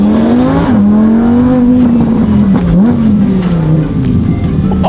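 A straight-piped barn-find Ferrari with a full FI exhaust revs loudly up through the gears, the close, raspy engine note climbing and dropping sharply at quick shifts, heard from inside the car with little talk.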